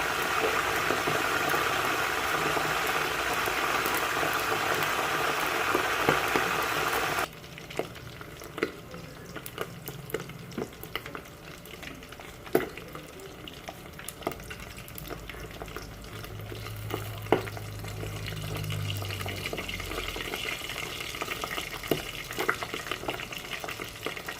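Steady broadband sizzle of pork leg frying in hot oil, loud at first then dropping to a quieter crackle with occasional pops and a low hum.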